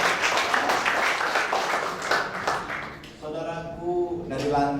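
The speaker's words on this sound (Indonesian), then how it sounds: "Yang setuju tepuk tangan bagi Allah." Church congregation clapping in applause during a sermon, a broad dense patter for about three seconds that fades as a voice takes over near the end.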